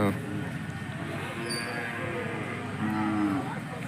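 Low cattle moos sound over a busy crowd murmur at a village fair cattle market in Tumkur district, Karnataka, with a longer drawn-out bellow near the end amid general market noise.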